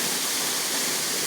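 Clear water tumbles down the Pinganón de Caideru waterfall in Asturias, a steady, close, full-bodied rush of falling water with no voices over it.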